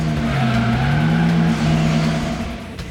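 Race cars in the PlayStation racing game Gran Turismo 2000 skid with drawn-out, pitch-shifting tire squeal over a steady engine drone, loud and close, fading slightly toward the end.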